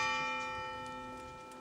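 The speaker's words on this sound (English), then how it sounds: "the South Building bell rang 10 times in honor of the 10th Chancellor of UNC" A single fading stroke of the South Building bell at the University of North Carolina, a rich, steady ringing tone with many overtones that slowly decays, heard at a distance with no voices.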